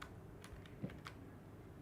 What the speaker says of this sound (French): on entend fort mes bruits de clavier